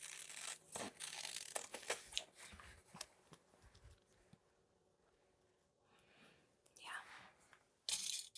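Scissors cutting fabric for a fusible applique collage quilt, close quiet snips and rustling in short bursts with pauses, a few louder cuts near the end.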